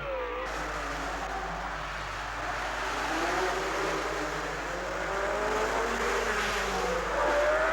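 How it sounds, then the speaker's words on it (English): Formula 1 race cars leaving the start at the 1960 Monaco Grand Prix with excessive wheel spin, engines rising in pitch and tires squealing in a steady, building roar. "When the race started, Joe Bonnier sneaked through into the lead as all the front row suffered excessive wheel spin."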